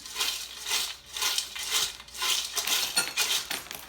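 Homemade party snack mix stirred in a bowl, giving a close, soft rustling and clinking of dry pieces shifting and tumbling in repeated strokes.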